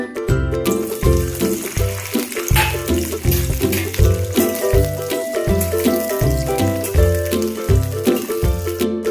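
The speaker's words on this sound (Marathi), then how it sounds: "आता आपण सर्वप्रथम भेंडी फ्राय करून घेणार आहोत" Okra frying in oil in a kadhai over low heat, a steady soft sizzle running beneath louder rhythmic background music that dominates throughout.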